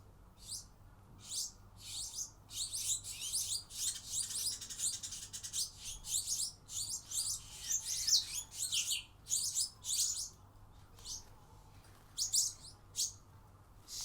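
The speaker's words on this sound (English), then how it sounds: "there's about 7 or 8 birds here. I think they're being fed, so they're very vocal." A flock of about seven or eight birds being fed, chirping and tweeting loudly in rapid overlapping bursts, close by with no talking.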